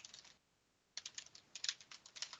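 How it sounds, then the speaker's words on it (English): Someone types on a computer keyboard: a brief burst of clicks, a pause of near silence, then a steady run of quick, fairly close keystrokes, quiet overall. "It's funny, I hear somebody typing."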